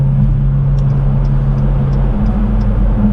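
Steady low drone of a car being driven, heard from inside the cabin, an even engine and road rumble with a few faint ticks above it, constant throughout.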